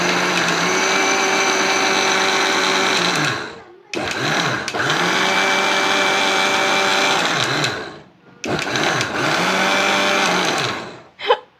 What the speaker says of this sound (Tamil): இப்போ வந்து தேங்காய் இஞ்சி பச்சை மிளகா போட்டிருக்காங்க சோம்பு கொஞ்சம் போட்டிருக்காங்க இப்போ நம்ம இதை அரைக்க போகிறோம்